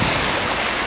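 Ocean surf washing onto the shore at Glengorm on Mull, a continuous broadband roar of breaking water with steady wind noise across the microphone, close and fairly loud throughout the brief moment.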